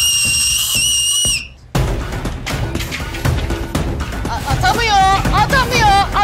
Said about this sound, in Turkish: Yanımda düdük getirmediğim için ıslıkla başlatacağım.